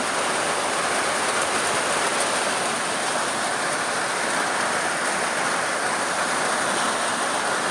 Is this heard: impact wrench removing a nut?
no